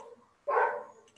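A single sharp dog bark rings out at moderate distance, sudden and brief, against an otherwise quiet background with no talking.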